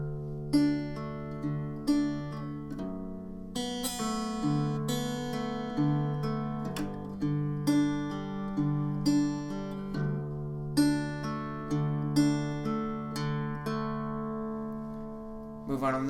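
Guitar plays the opening part of a song at a slowed pace, with strummed chords and picked notes ringing out in a steady rhythm, close and alone.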